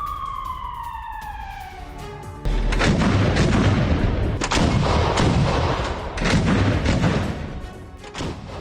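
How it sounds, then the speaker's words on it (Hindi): Heavy gunfire and booming artillery from a Russian army attack in the Ukraine war, loud and sustained in dense overlapping bursts, preceded by descending siren-like whistling tones. "रूसी सेना ने जबरदस्त फायरिंग की है।"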